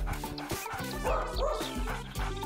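An excited dog yips and whimpers eagerly after smelling a sausage, short high-pitched barks in quick bursts close by, over a soft musical background.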